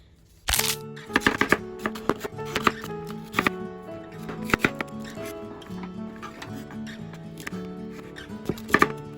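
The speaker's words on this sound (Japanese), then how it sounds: "まずはセロリ、人参、玉ねぎを細かく刻んでいきます。" Celery, carrot and onion being finely chopped with a knife on a board: a loud first strike, then quick, irregular near taps and clusters of cuts, with a faint tonal hum underneath.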